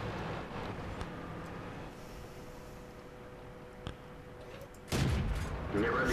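A tank gun fires in a World of Tanks stronghold battle, one loud broadband blast near the end after a steady engine and battle din, with a smaller bang earlier.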